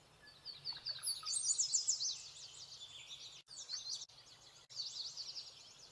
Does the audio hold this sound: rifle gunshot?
no